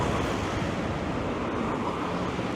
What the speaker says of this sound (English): In fact, it's nothing, it's just a gentle breeze